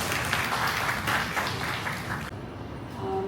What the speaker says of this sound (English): let us welcome our keynote speaker, Dr. Han Lee, with a round of applause.